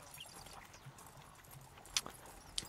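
Horse hooves clip-clop softly at a distance in an irregular walking rhythm, faint beneath a quiet background with a couple of sharper clacks standing out near the end.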